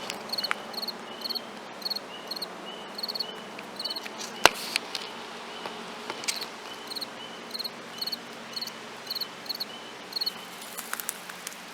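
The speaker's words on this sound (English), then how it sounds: "it's just so unique to hear spring peepers and crickets" Spring peepers and crickets chorus near mountain runoff at an old abandoned turnpike, with steady high trilling and regular rhythmic pulses, moderately faint over a low background hiss.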